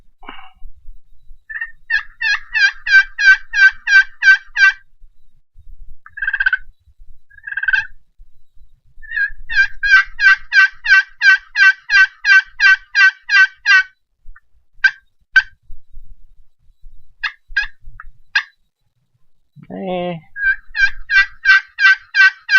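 A burnt peg turkey call, a slate-style friction call with a fresh top, played alone up close in repeated runs of sharp, raspy yelps, a few scattered clucks and one low purr between.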